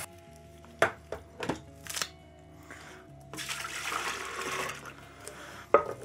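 Water poured into a jug for home brewing Great Northern beer, a soft, steady splashing and trickling stream at close range after a few light knocks and clunks, fairly quiet overall.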